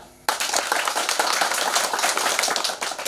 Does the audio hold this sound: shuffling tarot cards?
no